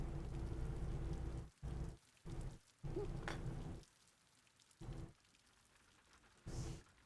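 Rain from a video game patters steadily as a drizzle of raindrops, the dense wash broken by several short gaps and quieter stretches, with no voices over it.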